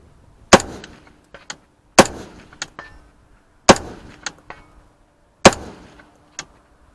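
An MK18 rifle fires at a target 200 yards away, four sharp, loud, close shots spaced over a few seconds, each followed by a faint distant echo or impact report.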